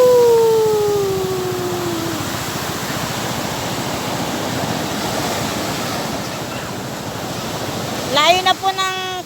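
Sea waves surge steadily onto the shore with a loud, unbroken roar. A high whistling tone fades early on, and near the end a person whoops over the surf.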